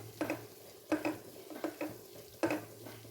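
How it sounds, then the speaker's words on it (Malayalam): A spoon stirs clam meat with fennel powder and chilli powder in a pan, scraping and clinking in four distinct rhythmic strokes over a soft, low sizzle, close and fairly quiet. "ഒരു അര ടീസ്പൂൺ പെരിഞ്ചീരകപ്പൊടി ഇട്ടിട്ട് നന്നായി അതിനെ ഇളക്കി യോജിപ്പിക്കുക"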